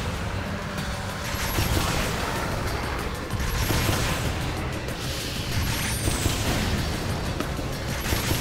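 Dense, continuous rapid gunfire and blasts from shooting in the Sonic the Hedgehog game, a loud sustained barrage of overlapping shots and impacts without pause.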